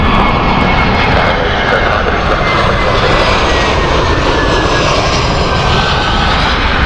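Aer Lingus jet airliner at Heathrow Airport, a loud, sustained engine roar with a faint high whine running steadily throughout, near and without talk.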